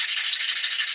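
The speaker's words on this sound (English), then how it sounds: "you got to clean this garbage off, you know, get it out of the teeth" Brushing or scraping debris out of the teeth of a fine-tooth metal file used on guitar fret ends, a rapid rhythmic bristly rubbing, close and steady, with no voices.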